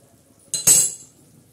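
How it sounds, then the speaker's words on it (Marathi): Metal lid set down on a pan of black eggplant curry cooking with dried Bombay duck, a sharp close clink followed by a brief rattling ring that fades within half a second. "आता परत आपण झाकण ठेवू मैत्रिणींनो."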